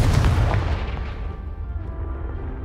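A Confringo blasting spell explodes in the Hogwarts Legacy video game with a heavy, booming burst that rumbles on and slowly decays over a couple of seconds, with no voices.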